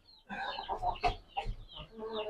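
Aseel chickens on a farm give a quick run of several close, fairly quiet clucks over about two seconds.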